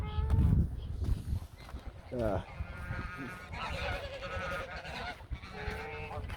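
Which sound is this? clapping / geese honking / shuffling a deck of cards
geese honking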